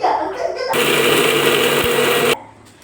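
Mixer grinder running loud and close for a couple of seconds, powdering poha, poppy seeds, cardamom, cashews and roasted gram, a steady whirring roar that starts abruptly and cuts off sharply.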